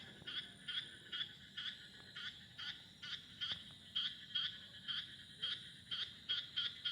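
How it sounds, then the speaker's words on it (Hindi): Frogs croak in a steady, rapid pulsing rhythm, repeated calls at a moderate distance over faint background hiss, with no voices. "पता नहीं मेंढक है या क्या है"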